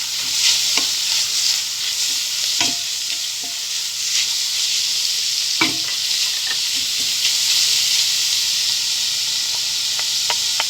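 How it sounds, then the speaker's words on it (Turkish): Onions and carrots sautéing in a pan, a constant hissing sizzle with scattered scraping and tapping of a spoon stirring the vegetables, no speech. "Biraz havuçlarla da kavuruyoruz."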